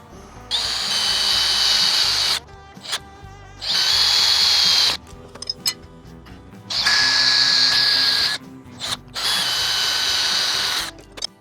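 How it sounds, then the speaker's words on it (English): A handheld power drill bores holes in an oddly shaped metal part clamped in a vise, with bursts of steady high whine and gritty cutting noise separated by brief pauses and clicks. "I'm just gonna drill these by hand in the vise."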